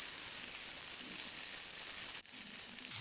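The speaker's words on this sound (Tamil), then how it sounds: "இந்த டைம் வந்துட்டு வெங்காயத்தை நம்ம அதில் சேர்த்து வதக்கி விட்டுக்கலாம்" Onions sauté in butter in an iron pan, giving a steady close sizzle throughout with one brief stirring scrape near the end and no voices.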